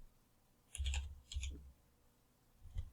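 A handful of quiet computer keyboard presses enter a shortcut, two or three soft clustered clicks followed by one more key press after a pause, close and faint in an otherwise quiet room.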